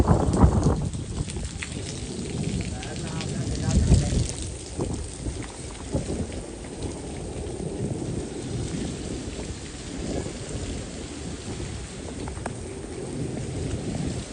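Heavy stormy rain pours down in a Pakistani village, a dense continuous roar of drops on surfaces with low rumbling swells near the start, steady and close throughout with no voices.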